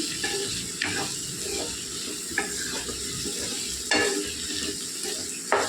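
Chili powder frying in hot oil for a brinjal potato curry, a steady close sizzle and hiss with a few clicks of a spoon stirring against the pan, and no talking.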